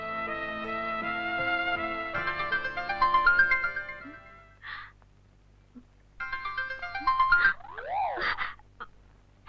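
A mobile phone ringtone rings out late at night as an outgoing call connects, a melodic electronic tune playing in two bursts with a short gap between them, close and clear with no talking.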